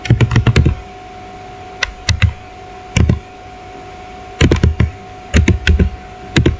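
Clusters of quick keystrokes on a computer keyboard as a network command is typed, loud and close, with short flurries separated by pauses and single taps between them.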